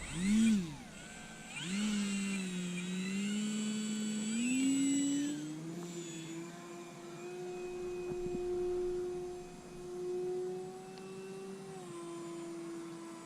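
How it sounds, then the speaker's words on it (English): An E-flite Maule M7 RC plane's electric motor whines at about three-quarter throttle, a sustained tonal whine that rises and sweeps in pitch, then settles and holds steady and fairly close. "that's about 3/4 throttle there. And like all the Maules, they seem to whine"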